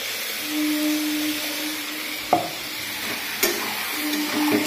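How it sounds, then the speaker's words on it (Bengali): Spices being stirred into meat cooking in a pan, a low steady sizzle under soft scraping, with a couple of sharp knocks of a spoon against the pan, no talking. "মশলা দিয়ে এবার নাড়াবো।"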